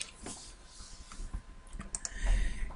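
Keys clicking on a computer keyboard while coding in RAD Studio, a short irregular burst of taps and clacks, close and fairly clear with a low bump near the end and no speech.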